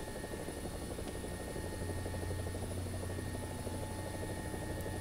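A helicopter rotor in War Thunder heard from inside the cockpit, a steady, fast blade chop over a constant engine whine and low hum, loud and unbroken with no one talking.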